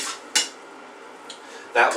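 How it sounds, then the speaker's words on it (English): A few short metallic scrapes and clanks of a frying pan shifting on an electric hob, close by, with quiet gaps between. "I'm going to move the pan over slightly, so the pan is only covering half of this electric hob"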